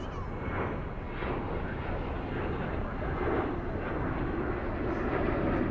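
Aircraft arriving at DFW airport at night, a steady broad jet roar that swells slightly over several seconds, fairly distant and continuous with no talk.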